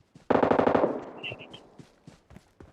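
A burst of rapid automatic gunfire from an improved gun in PUBG Metro Royale, loud and close, followed by a few scattered fainter shots.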